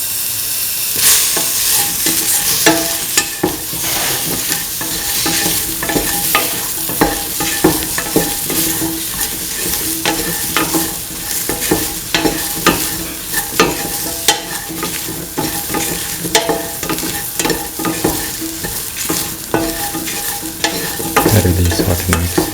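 Potato and soya chunk pieces sautéing in a pan, a continuous loud sizzle punctuated by rhythmic scraping and clattering as the mixture is stirred and tossed, with no voices.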